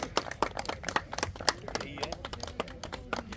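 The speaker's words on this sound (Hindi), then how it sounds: "जोरदार तालियों से स्वागत करेंगे उनका" Scattered, modest applause greets guests at a farmers' meeting held by a sugar mill in a village, with individual claps audible at a moderate distance and fairly quiet overall.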